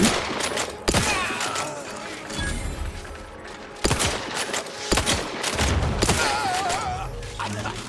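Rapid bursts of gunfire and explosive booms in The Outer Worlds 2, dense volleys with heavy thuds and a few distinct sharp shots over a continuous battle din.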